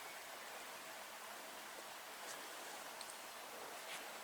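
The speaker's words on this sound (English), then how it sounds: "Bit of drizzle coming through still" Light drizzle falls steadily outdoors at a bush edge, a soft even hiss of fine rain with no voices.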